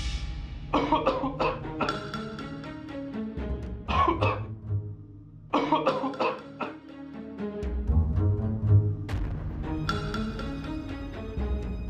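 A man coughs hard in repeated bursts, several harsh throaty coughs in clusters with short pauses between them, loud and close.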